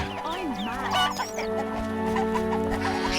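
Chickens cluck in the video game The Witcher, a dense stretch of overlapping clucks and squawks over a steady background hum, moderately loud and continuous.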